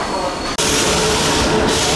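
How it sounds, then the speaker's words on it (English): A crowded Indian passenger train pulls in with a loud, steady rumble and rush close by. There is a brief cut near the start. "Train is here and it's very full."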